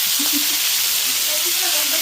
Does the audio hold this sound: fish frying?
yes